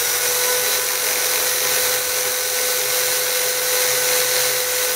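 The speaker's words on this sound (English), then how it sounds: "just hold your drill down and push the button." A steady, loud, high-pitched whine of a power drill spinning a plasma cutter tip against sandpaper continuously, with a constant grinding hiss throughout and no pauses.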